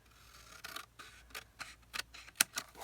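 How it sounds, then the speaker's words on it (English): Scissors trim paper for a craft page in a series of crisp, separate snips of uneven spacing. The snips are close and quiet, with no talking. "let's go ahead and we'll trim this"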